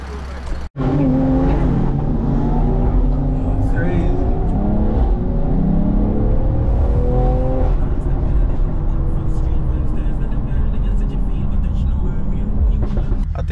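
At a car event, a car launches hard and accelerates away, its engine rising in pitch through several gear changes and roaring loudly before fading into a general crowd noise, with people talking over it.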